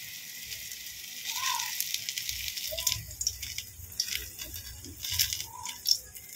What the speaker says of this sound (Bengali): গরম হয়ে গেছে, এবার আমি এগুলো দিয়ে দেবো আস্তে আস্তে